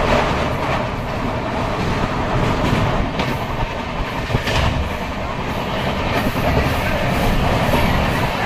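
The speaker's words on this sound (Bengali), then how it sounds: "এইদিকে ট্রেনটা প্রচুর লেট ছিল, তারপর প্রচণ্ড জোরে ছুটতে শুরু করেছে।" A late passenger train runs fast, heard from inside a carriage near the window: a loud, continuous rumble with rhythmic clickety-clack of wheels over rail joints and occasional brighter rattles, steady throughout.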